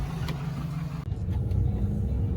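A used truck pulls away under steady, close engine rumble with low road noise, getting slightly louder after the first second.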